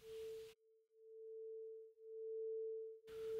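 Two sine tones close in pitch beat against each other, producing a steady pure hum that swells and fades in slow, regular pulses of loudness.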